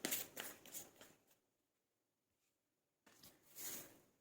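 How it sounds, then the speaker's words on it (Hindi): Tarot cards being shuffled and drawn from a deck, soft riffling and sliding rustles in two short close bursts separated by a quiet pause. "मैं आप लोगों के लिए कार्ड निकाल लेती हूँ।"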